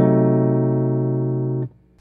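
A guitar rings out a diminished seventh chord voicing, a single sustained strum holding steady for under two seconds before being abruptly damped.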